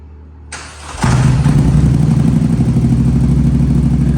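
A fully rebuilt four-wheeler ATV cranks briefly and catches, then settles into a loud, steady close-up idle with no one speaking.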